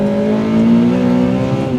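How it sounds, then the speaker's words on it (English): A Honda Civic Type R FD2 with its K20A four-cylinder engine revs loud and near, a sustained high-pitched engine note rising slightly and holding for under two seconds with no voices. "It has probably the greatest 4-cylinder engine ever created."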